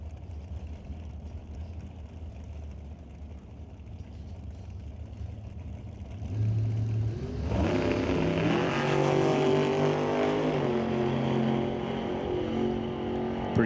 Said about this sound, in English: Dragster coming at you in the right lane.